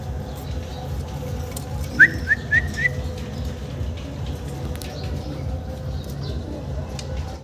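White giant homer pigeons, a mated pair, give a short run of soft coos in the middle, faint against a constant background murmur.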